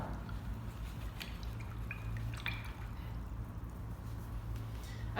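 An acrylic paint brush is rinsed in a container of water, giving faint, sparse drips and small splashes over a steady low background hum.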